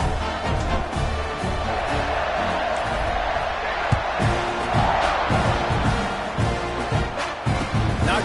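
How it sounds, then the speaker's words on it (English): A football stadium crowd buzzes after a score, a dense, loud roar of cheering and shouting voices that holds steady throughout, with scattered whoops and a broadcast voice mixed in. "this crowd is buzzing after that last score"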